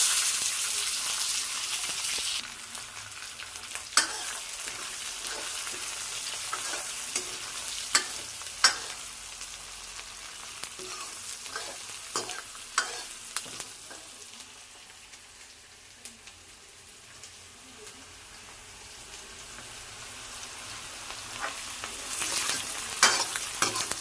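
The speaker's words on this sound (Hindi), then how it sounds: "अब जो है जीरा फ्राई हो गया, अब डाल दूँगी इसमें मैं ये कटी हुई प्याज।" Chopped onion frying with cumin in a pan gives a steady close sizzle throughout, broken by frequent clicks and scrapes of a spoon stirring, with a brief hissing burst near the start and end.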